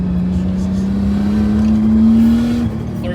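Nissan Skyline R32 street car accelerating hard on a track, a steady rising engine drone heard from inside, loud and continuous, easing off near the end.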